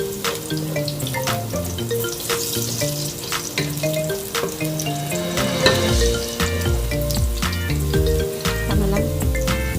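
Garlic sautéing in a hot pan for Ilocano-style igado, a continuous sizzle under loud background music, with occasional clinks and stirring scrapes close by.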